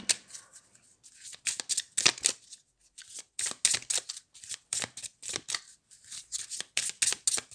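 Gaia oracle cards being shuffled in hand during a reading, heard as a series of quick, crisp riffling bursts in an uneven rhythm, close and fairly quiet, with no talk.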